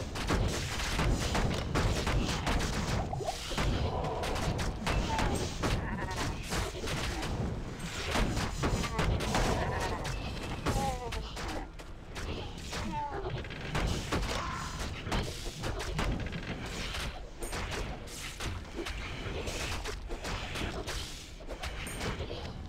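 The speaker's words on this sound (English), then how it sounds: "Time to bust out some fire claws." Fire claws attack in the Diablo II video game, a dense clatter of crackling impacts, crunches and bursts running continuously for over twenty seconds at moderate loudness.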